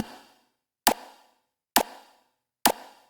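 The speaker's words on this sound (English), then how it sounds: "And the talk is just a snare drum" Three sharp snare drum hits spaced evenly apart, each a crisp crack with a short decay, close and alone.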